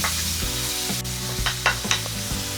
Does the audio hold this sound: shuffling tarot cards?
no